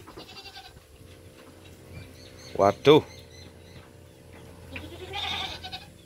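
A goat that has been given cigarette smoke bleats twice in quick succession nearby, with people talking and chatter around it.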